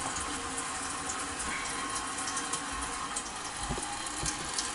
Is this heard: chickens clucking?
no